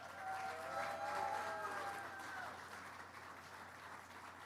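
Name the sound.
round of applause for Amtrak NextGen Acela workers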